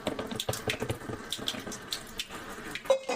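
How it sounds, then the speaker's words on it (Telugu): Lukewarm water pours from a vessel onto flour for soft chapati dough, a choppy run of splashing trickles and gurgles, close and fairly loud, with no voices. "కొంచెం గోరువెచ్చని వాటర్ పోసుకోవాలి."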